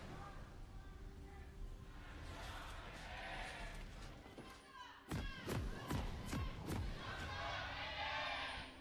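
A studio crowd at a 2019 LCK Spring esports match between SANDBOX and Hanwha Life breaks into loud cheering and shouting. Murmuring and thuds come first, then a burst of whoops and cheers swells partway through.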